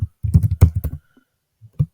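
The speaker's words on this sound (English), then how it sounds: "I am typing localhost" Rapid clusters of keystrokes on a computer keyboard, typed close by in bursts with a brief pause before a final couple of taps.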